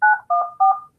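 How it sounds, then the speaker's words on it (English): Three loud, evenly spaced telephone keypad tones beep in quick succession, each a clear two-note dialing tone with brief gaps between. "All right, I'm calling some people."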